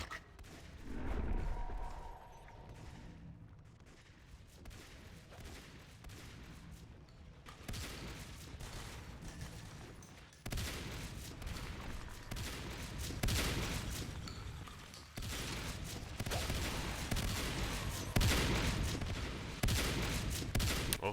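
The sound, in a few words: turrets firing in Natural Selection 2 video game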